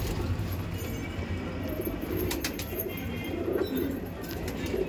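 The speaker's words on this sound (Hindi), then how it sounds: "शॉक करो सारे मद्रासी कबूतरों का।" Madrasi pigeons among a flock of quality highflyer breeds coo in low, murmuring calls against a steady bed of cage and flutter noise, continuous and fairly close throughout.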